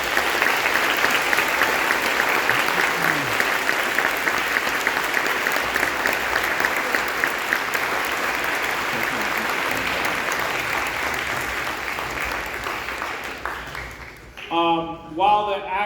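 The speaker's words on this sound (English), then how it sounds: "if we can just give a round of applause to the boosters and all the work that they did" Sustained, full applause from a high school spring concert audience fills the room steadily, then dies away as a voice starts speaking near the end.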